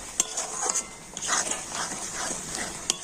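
Day-old roti pieces being stirred in hot oil, with a steady frying hiss and scattered scraping and clinking of a utensil against the pan, all close by.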